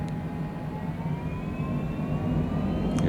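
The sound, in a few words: small aircraft engine during takeoff roll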